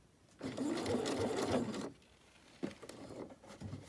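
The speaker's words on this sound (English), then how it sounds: "I started sewing right back there, and I'm just gonna come in just so that it seems seamless." A sewing machine stitches a fabric face mask in one loud close whir of about a second and a half, then a few short, softer bursts of stitching follow.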